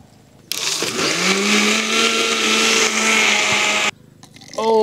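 Electric blender grinding mint leaves and lemon for ice pop mix, starting abruptly, a loud steady whirring roar holding for about three seconds, then cutting off sharply.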